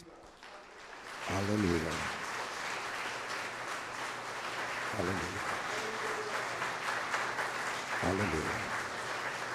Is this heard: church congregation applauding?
yes